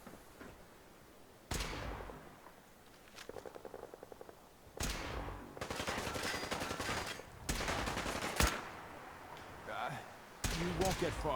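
Gunfire in the Fallout 4 video game, with sharp bursts of shots and rapid fusillades, some close and loud, scattered unevenly across a combat scene.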